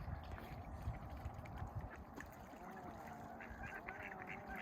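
Ducks quacking on a lake during spring ice breakup, a busy, distant chorus of scattered honking calls over a steady watery background.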